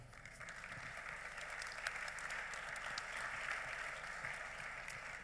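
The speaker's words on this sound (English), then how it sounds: "Would you like to guys give a clap, please?" Steady, dense applause from an audience at a startup awards event, filling the whole stretch evenly at moderate distance without any talk over it.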